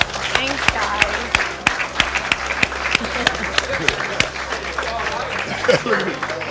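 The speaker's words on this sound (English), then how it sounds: "Let's clap it up for her, baby." An audience claps together, a dense, steady wash of applause with sharp individual hand claps standing out, running throughout under a faint background of voices.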